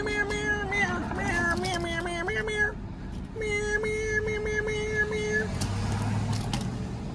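A cat meows repeatedly up close in a string of drawn-out cries, with a faint low engine hum underneath.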